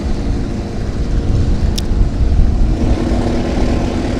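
A Camaro with a low-horsepower 396 and a 1971 Dodge Demon 340 launch flat out in a heads-up drag race, loud sustained engine roar swelling then holding steady, heard from close by.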